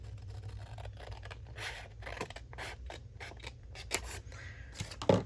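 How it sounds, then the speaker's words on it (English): Paper being cut along a line with scissors for a handmade journal project, a series of close, crisp snips and rustling slices in an uneven rhythm with no talk. "So I'd probably want to cut it right on that line right there."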